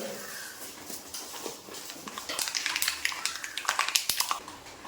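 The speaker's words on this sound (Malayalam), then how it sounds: "അപ്പോൾ നമ്മുടെ കടുക് പൊട്ടി" Mustard seeds crackle and pop in hot coconut oil, a dense run of sharp, irregular snaps that grows louder and busier toward the end, close by with no talking.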